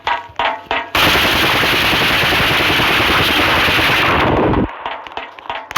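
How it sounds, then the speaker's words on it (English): Rapid video game gunfire from a long sniper rifle, a loud sustained burst lasting several seconds after a few sharp separate shots, up close with no talk. "I have a very long sniper rifle. Super long. Where am I shooting?"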